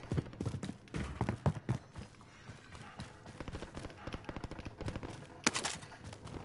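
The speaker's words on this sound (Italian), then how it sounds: "Sento spari." Quiet bursts of rapid gunfire in the video game Warzone crackle in uneven volleys, distant and faint, with scattered single shots between them.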